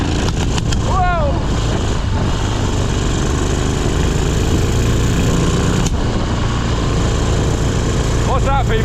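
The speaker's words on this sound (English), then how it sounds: "that's the cylinder that's been misfired" A three-wheeler's engine runs loud and rough throughout, misfiring on one cylinder, with people talking and shouting over the uneven chugging.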